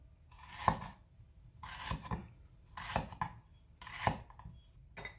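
A knife slices carrots at an angle on a cutting board. It makes four or five crisp, evenly spaced chops, close up and quiet, with no talking.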